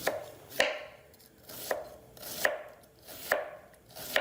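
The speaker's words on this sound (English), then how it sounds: "Go through and shred the cabbage." A knife finely shredding cabbage on a cutting board, sharp chopping strokes in a steady rhythm about once per second, each with a brief scraping tail, close and clear with no voices.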